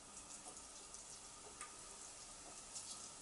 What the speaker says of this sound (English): As you can see, it's sizzling straight away